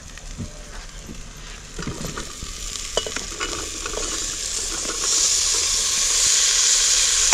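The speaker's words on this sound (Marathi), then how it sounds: "आता ह्या सगळ्या भाज्या घालू बटाटा फ्लावर आणि बीट" Potato, cauliflower and beetroot are stirred into hot oil tempering for pav bhaji, with steady close sizzling under scraping stir strokes, the frying hiss swelling louder and brighter in the last seconds.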